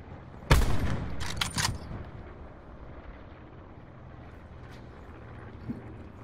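Gunfire erupts behind the player in Call of Duty Black Ops 4 Blackout mode: a sharp close shot followed by a quick burst of several rounds, then quieter distant pops over low background ambience.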